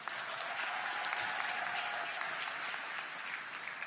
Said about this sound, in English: Please give your family and friends a round of applause.